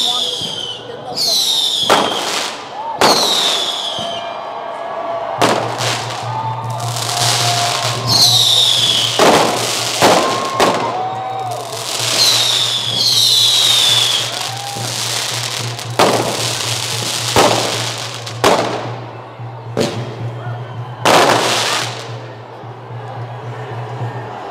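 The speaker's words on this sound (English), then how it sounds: "Probably more fireworks than you've ever had in Ireland." Fireworks and firecrackers burst in repeated loud cracks and crackling bursts with whistling streaks, spaced irregularly over a low steady hum, with no speech.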